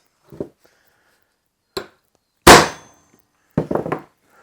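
A cold chisel made from a crowbar is hammered into a piece of metal, giving four separate sharp metallic strikes with pauses between them. The third strike is the loudest and rings briefly, and the last is a quick double hit.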